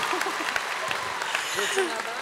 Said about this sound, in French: Encore des applaudissements, s'il vous plaît.